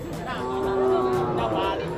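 A water buffalo (carabao) at a farm in Nabilog gives one drawn-out, low, close moo that swells and fades over about a second, with faint voices murmuring in the background.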